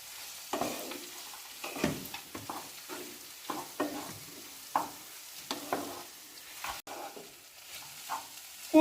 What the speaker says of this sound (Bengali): বাদাম দিয়ে আর একটু নাড়াচাড়া করতে হবে